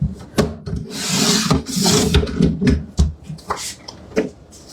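Paper being cut into 1.5-inch strips, with repeated scraping, sliding strokes and light knocks on a work surface, close and irregular.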